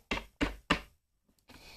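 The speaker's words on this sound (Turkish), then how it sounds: "kapı çaldı" Three quick, loud knocks rap on a door in an even rhythm, followed by a short pause and a faint rustle.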